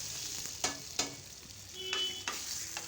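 Tempering in hot oil with mustard seeds, chana dal, urad dal and grated coconut for a podavilakai palya side dish: a soft steady sizzle with a few sharp scraping stirs of a spoon in the pan, close by with no talk.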